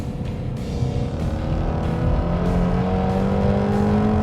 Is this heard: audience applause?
no